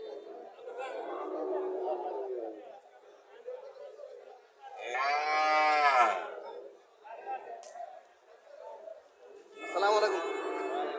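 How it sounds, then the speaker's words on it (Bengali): A local dairy cow gives a couple of loud moos at a village cattle market, with crowd chatter and people talking throughout. "এখানে একটা গাভী দেখা যাচ্ছে"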